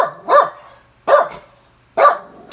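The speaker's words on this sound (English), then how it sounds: "Maxie, I don't want you barking." A dog barks three times at an even pace, loud and close, each bark a short sharp burst with silence between and no talking.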